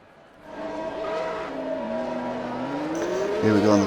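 Race cars rolling off on a formation lap in Bahrain in the F1 2021 game, a steady engine drone that rises and shifts in pitch, with several cars layered and growing louder near the end.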